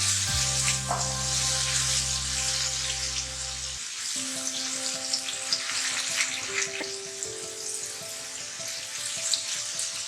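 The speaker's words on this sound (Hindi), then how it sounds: "हम इसके अंदर लहसुन डालेंगे। ये हमारे पास 1 टीस्पून लहसुन की पेस्ट है। इसको अच्छी तरह भून लेंगे।" Garlic paste sizzling in hot oil with golden fried onions in a pan for fish karahi, a steady broadband frying hiss throughout, with a low hum that stops partway and faint tonal clatter.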